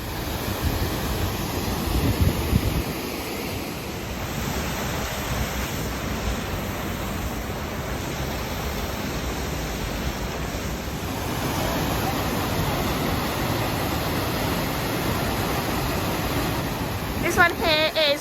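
Pecker Falls on the Ingleton Waterfalls Trail makes a continuous rushing roar of falling water, steady and fairly close, with some wind buffeting the microphone.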